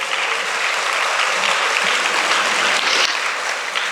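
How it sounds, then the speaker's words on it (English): A crowd applauds steadily at a school prize distribution ceremony, dense clapping that stays loud and even from start to finish. "Now, yes, it deserves a round of applause."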